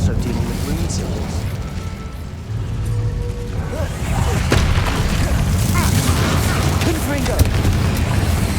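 Fiery Incendio spell blasts from the Hogwarts Legacy video game, a loud booming crackle swelling after a few seconds of quieter game ambience and holding as a dense roar of combat effects.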